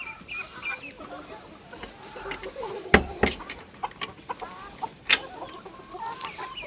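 Young chicks cluck and peep softly in a home setting, with scattered short calls and a couple of sharper squawks near the middle over a quiet background.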